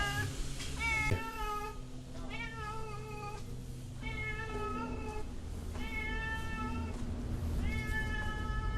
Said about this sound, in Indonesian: Ada kucing, cuy.